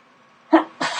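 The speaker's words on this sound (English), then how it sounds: "I've got to sneeze." A single adult human sneeze bursts out close and loud, a sharp onset followed moments later by a second, broader blast of breath noise, set against a quiet indoor room with no talking.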